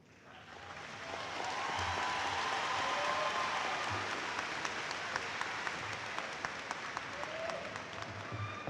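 A large audience at a 2021 summer graduation ceremony breaks into sustained applause that swells within a second and holds as a dense, even roar of many hands clapping.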